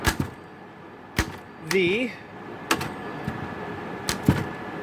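Typing on an L C Smith & Corona typewriter under repair: sharp isolated key strikes spaced irregularly, with a brief whirring mechanical sound in the middle, close and fairly loud over a low room hiss.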